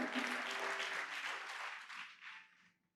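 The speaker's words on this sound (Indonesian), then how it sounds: "beri tepuk tangan buat Allah kita" Congregation applause during a night prayer service at a church, fairly distant and soft, steady clapping that tapers off and fades to silence at the end.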